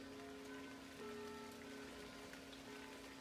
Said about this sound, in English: while it's raining, we're hiding out underneath the mulberry tree